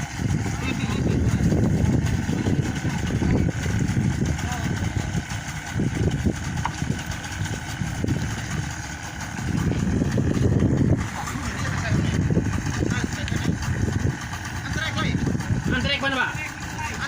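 A fishing boat's engine idles at a boat handover to fishermen in Malaka, a low, rumbling drone running underneath nearly constant nearby talk and shouting among the crew.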